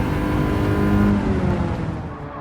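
A classic 1980s race car in Gran Turismo 7 gives a loud, gritty engine roar that holds steady and then eases off slightly toward the end, with no talking.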